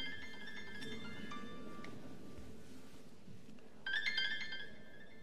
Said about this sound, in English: Sorry, I didn't turn off my cell phone.